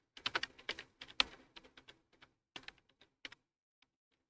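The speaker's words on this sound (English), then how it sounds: "Let me type that." Someone types code on a computer keyboard: a quick irregular burst of close keystrokes, a pause, a few more taps, then it trails off into quiet.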